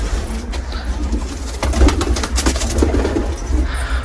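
A pair of Isbir Filo pigeons coo steadily in a loft, their low soft calls repeating close by and filling the space without any talk.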